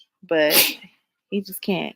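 One abrupt sneeze bursts out during a live online tarot reading, followed a moment later by a person speaking briefly.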